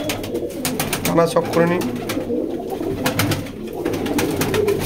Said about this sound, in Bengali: তো ভাই একটা নর পায়রা দেখে নিন, এটা কি পায়রা? এটাও রামপুরি গোল্ডেন আছে।